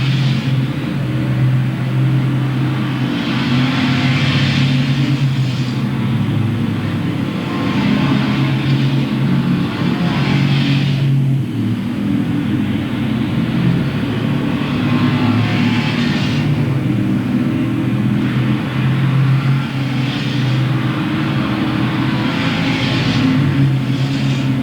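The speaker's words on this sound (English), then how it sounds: "22 begins chasing down our race leader, John Shellhammer, as they race back into turns 1 and 2." Street stock race cars roar around the Louisville Motor Speedway oval in the final laps, engines loud and continuous with passing surges as the pack sweeps through the turns.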